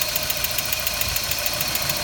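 A 1990 Mazda Miata's 1.6 liter engine idles steadily with a soft, rhythmic knocking pulse and a broad mechanical hum, held at a constant level with no talking.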